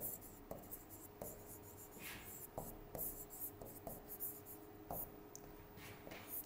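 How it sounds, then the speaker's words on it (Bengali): Antibiotic names are written by hand with a pen on paper, giving soft scratching strokes in short bursts with brief pauses, quiet and close, while faint voices are heard in the background. "আমরা আগে অ্যান্টিবায়োটিকের নামগুলো লিখি"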